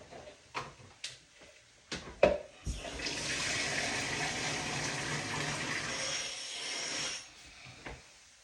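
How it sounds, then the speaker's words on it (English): Water runs from a kitchen tap into something for about four seconds, a steady broadband rush, preceded by a few sharp clunks and knocks of handling. "So like I'm gonna add some water to it to give some juice to it."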